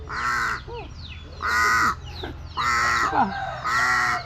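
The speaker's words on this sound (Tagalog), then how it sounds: "Ini si uwak mga kabud." Loud harsh caws from a nearby crow, repeated in four bursts roughly a second apart, with quieter bird calls in between.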